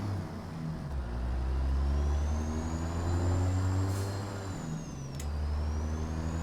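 A Freightshaker Classic XL semi truck in American Truck Simulator pulls away: a loud, steady low diesel rumble climbs through the gears, with a sharp air-brake hiss partway through and a whining pitch sweeping across the top.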